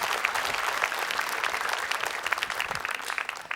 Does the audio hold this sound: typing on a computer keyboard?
no